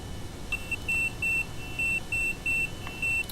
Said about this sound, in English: I don't actually know how to turn the alarm off.